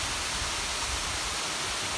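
A waterfall beside a small river in hill country gives a steady, full rushing roar of broadband noise, continuous and unbroken, with no voices.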